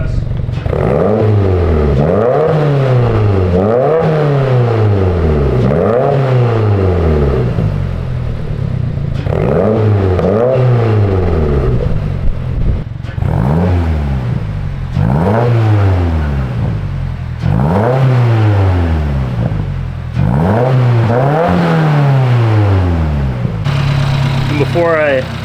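A 2022 Subaru WRX fitted with a Perrin front pipe revs repeatedly, loud and close, with rising and falling engine pitch in steady bursts over a running idle.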